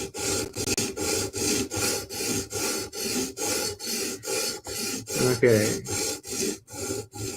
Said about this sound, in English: Pushing the stone all the way up against the flat grind, not pushing it hard,